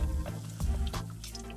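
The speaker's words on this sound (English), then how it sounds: "All right, this stuff is fizzing up pretty good." Fizzing liquid from a Treasure X Gold Hunt toy: a continuous close crackling sizzle with bubbly pops and a few sharper bursts of fizz, steady and fairly loud, with no voices.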